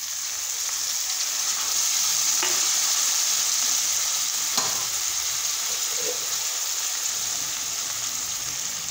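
Tomatoes frying in a hot pan for masala pav, a steady loud sizzle with faint scraping stirs, no voices.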